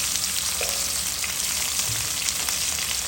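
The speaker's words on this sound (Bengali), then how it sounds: "সাথে আলুটাও দিয়ে দিলাম। ভাজা ভাজা হতে থাক পেঁয়াজের সাথে।" Potato pieces with onion and whole green chillies frying in hot oil, a continuous close, even sizzle with no talking.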